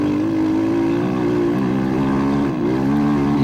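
An SSR 189 motocross bike engine running roughly at part throttle, a loud, steady buzzing drone that wavers and dips briefly midway, recorded close up while riding, with no voices.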